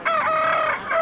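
A rooster crows loud and close in one drawn-out call, a farm bird kept by a poultry raiser on Tenerife, heard alone with no voices.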